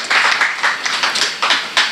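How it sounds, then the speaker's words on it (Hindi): Audience applause at a felicitation ceremony in a Hindi-Urdu poetry gathering: a short burst of crowd clapping, bright and close, with rising and falling swells of hand claps over two seconds. "अब जोरदार तालियों की ज़रूरत है गुफरान भाई के लिए।"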